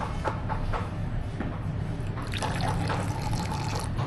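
Hot water poured onto pigment powder at a Sri Lankan wood craft workshop, a steady close liquid trickle and splash running throughout over a constant low background hum.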